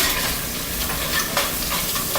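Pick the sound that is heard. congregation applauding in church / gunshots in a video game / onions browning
onions browning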